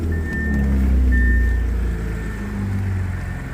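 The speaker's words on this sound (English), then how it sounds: "let me start the car up now so you can see how it sounds" Supercharged 3.0T engine of an Audi A6 idling close by, a steady low rumble with a thin high whine drifting in and out and a slight swell in level.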